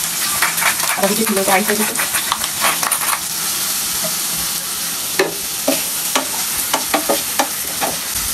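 Garlic frying in a pan, a steady sizzle punctuated by repeated sharp clinks of a utensil stirring against the pan, with a voice speaking briefly early on.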